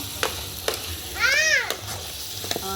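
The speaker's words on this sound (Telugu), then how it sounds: "చికెన్ ఒకసారి తిప్పుకుందాం." Chicken pieces cooking in a pot on a wood-fired stove are stirred, with a low bubbling sizzle and sharp scraping clicks. A brief meow-like cry rises in the middle.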